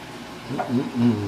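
Onions browning in a pan give a soft, steady sizzle and crackle, fairly close and low in level, with a few brief stirring bumps.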